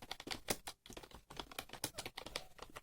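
Rapid typing on a computer keyboard during a typing test, a dense stream of close, crisp key clicks with a brief pause midway and no talking.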